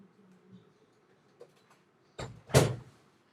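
A door opens or shuts indoors, giving a sharp, loud thud and rattle close by after a few faint knocks, with no talking.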